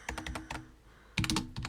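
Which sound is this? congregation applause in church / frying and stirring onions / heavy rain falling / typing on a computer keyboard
typing on a computer keyboard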